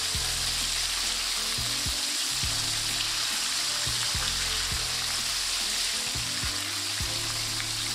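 Mac and cheese bites frying in hot oil, cooked a small batch at a time, give a steady, dense sizzle with crackling bubbles and faint low knocks running throughout, with no voices.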